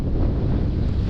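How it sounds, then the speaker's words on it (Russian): Steady wind buffets the microphone in a continuous low rumble on the Pechora River during a fishing trip, with a wash of broadband noise like open water, no voices. "Ну, ветер поднялся."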